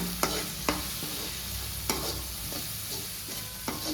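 Chilli and turmeric powder are stirred into tomatoes frying in a pan, with soft sizzling under a few sharp spoon scrapes and taps, fairly quiet and with no voices.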